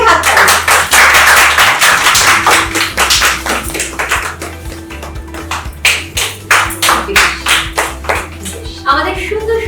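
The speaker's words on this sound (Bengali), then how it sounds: "জোরে হাততালি।" Loud applause from a studio audience at a Bengali game show after a pair wins a laddu-eating contest, with bursts of clapping and taps mixed with music and a voice talking.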